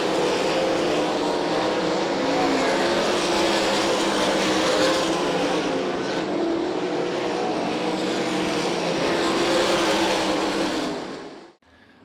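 Sprint cars in a heat race at a raceway roar past as one loud, continuous engine drone, holding steady for several seconds before cutting off abruptly near the end.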